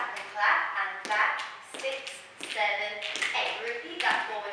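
A dancer taps a foot and claps hands during a step-by-step Sherlock Holmes mass dance routine. A few sharp, close taps and claps fall in a counted rhythm beneath an instructor's voice.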